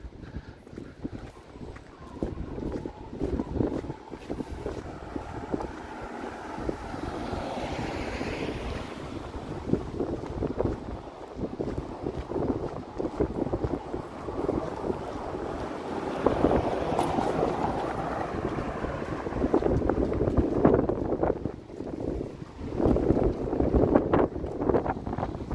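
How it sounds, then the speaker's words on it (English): Gusting wind buffets the microphone during a walk along Queen Street East in Toronto, a steady rumbling roar that swells louder in the second half with no talking. "Wind. It's pushing me along now."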